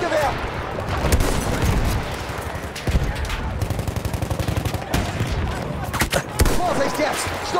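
Sustained machine gun fire in the Battlefield 1 game during the Amiens operation, dense rapid bursts with loud explosive booms mixed in, while voices talk over the battle.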